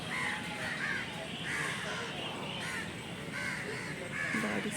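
Crows cawing from an old tree, repeated harsh calls at an uneven rhythm over a steady outdoor hiss, moderately near with no speech.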